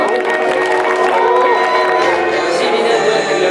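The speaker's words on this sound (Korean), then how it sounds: "박수입니다." Wedding guests burst into loud, sustained applause mixed with cheering and shouts, a dense crowd roar that holds steady throughout.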